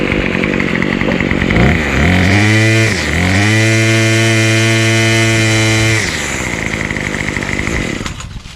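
A Craftsman 71120 27cc two-stroke weed trimmer with a new carburetor and a smoky, oil-rich fuel mix, loud and close, revving up from idle to a high steady whine, then dropping back to idle.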